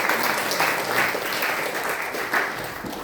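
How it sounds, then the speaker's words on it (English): Steady, dense clapping from a gathering in Sugar Land fills the room for three seconds, an audience applauding kirtan singers, even in level with no voices above it. "let's give a big applause to all these wonderful devotees"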